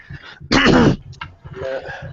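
A man clears his throat once with a sharp, harsh rasp in the middle of a quiet moment, flanked by softer murmurs and breathing.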